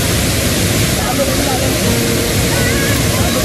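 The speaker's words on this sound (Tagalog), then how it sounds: "Napakaganda ng ilog." River water rushing near Colasi Falls, a dense, steady broadband roar of flowing water heard up close and loud, with a voice faintly present beneath it.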